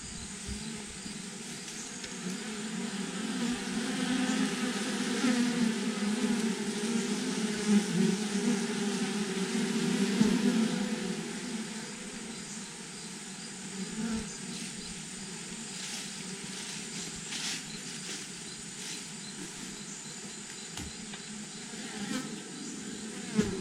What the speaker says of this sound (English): Bees appear to be very happy